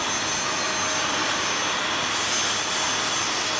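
Dyson DC05 vacuum cleaner running steadily, a close, loud broadband whoosh of suction with a high whine, holding a constant level for the whole stretch.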